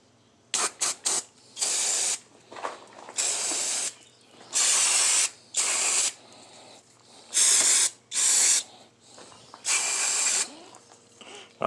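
Brake cleaner hisses from an aerosol can in a series of short, loud bursts onto a Honda Pioneer wheel hub being serviced for new wheel bearings, with brief quiet gaps and faint clicks between sprays.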